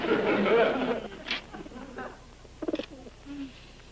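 Soft pigeon coos at a pigeon coop surface briefly in the second half, low murmuring calls following a burst of louder mixed noise at the start.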